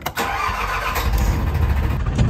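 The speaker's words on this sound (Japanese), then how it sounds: "じゃあエンジンかけて" A boat engine starting near Shodoshima before setting out, a close, loud, rough mechanical rumble that catches and settles into a steady running idle over a couple of seconds.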